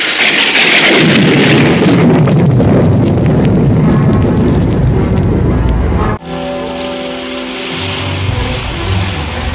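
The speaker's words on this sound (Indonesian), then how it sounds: "hujan deras, bersambung dengan petir yang meledak menggelegar" A loud, dense roar of pounding heavy rain and rumbling, exploding thunder fills the first part of an audio drama, then cuts to a quieter, steadier wash of noise.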